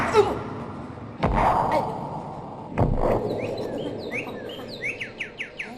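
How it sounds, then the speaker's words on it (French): Several birds chirp and tweet in a rising series of short, bright calls, preceded by a couple of dull thumps and a brief rustle; the birdsong grows clearer and more rhythmic toward the end. "Des oiseaux."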